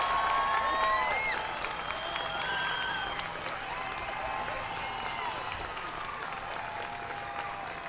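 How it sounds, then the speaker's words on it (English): Parents and guests at a 2021 middle school graduation applaud the class, steady full-room clapping with whistles and cheers rising over it early on, then settling into sustained applause. "Parents and guests, big round of applause for your graduates"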